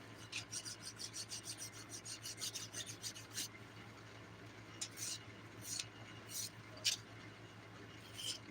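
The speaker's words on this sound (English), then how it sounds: "Brandis, I'm filing a Dipnotic Nails Mani for a twin with Michelle." A nail file rasps across fingernails in quick, rhythmic strokes during a Dipnotic dip powder manicure, soft and close, with a few separate scrapes after a pause.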